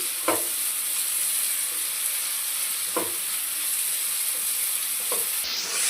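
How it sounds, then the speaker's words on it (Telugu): Ginger garlic paste and tomato fry in a pan with a constant bright hiss of sizzling oil, broken by a few sparse spatula scrapes and clinks. "అల్లం వెల్లిపాయ పేస్ట్, టమాటా బాగా వేగాలండి."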